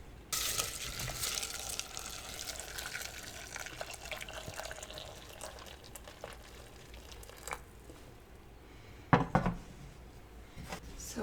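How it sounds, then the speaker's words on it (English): Boiling water poured over onion peels in a pot, a steady liquid splash and gurgle that sizzles at first, with a few short clinks near the end. "I'm just going to pour my boiling water over them and then set them to simmer."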